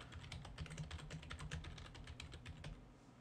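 Steady, rapid clatter of keys on a computer keyboard as text is typed, close and moderately loud with a constant low hum beneath, no voices.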